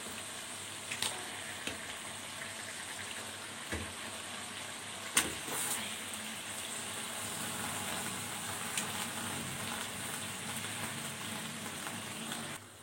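Chicken frying in a pan of spice mix gives a steady, dense sizzle with a few soft stirring clicks and knocks, close up and continuous throughout.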